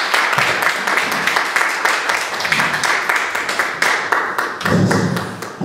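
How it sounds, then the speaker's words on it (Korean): An audience of pastors and their wives at a New Jersey Korean church seminar claps to welcome a pastor: loud, brisk applause of close, sharp individual claps, briefly swelling near the end. "목사님 우리 박수로 맞아주시기 바랍니다."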